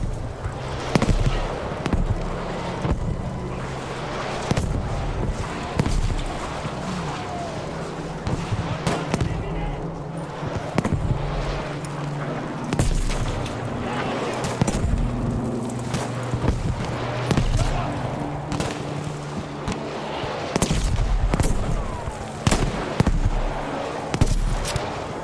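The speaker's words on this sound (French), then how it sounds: "wir stehen unter Artillerie." Artillery fire in the video game Battlefield V, with repeated booming blasts and sharp cracks of gunfire arriving irregularly over a continuous rumble, some impacts loud and close and others distant.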